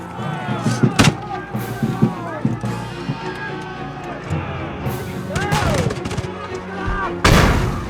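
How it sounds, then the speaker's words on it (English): British artillery firing grape shot into a Revolutionary War battle in a historical park film: heavy booms and gunfire crack out amid chaotic battle noise, shouting and voices, with a big blast near the end. "British artillery has fired grape shot directly into the fray."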